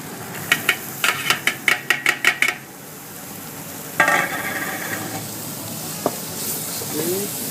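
Onions and celery cooking with potatoes in a pot, a steady sizzle under a quick run of sharp spoon taps on the rim, then scraping stirs and a few scattered clinks.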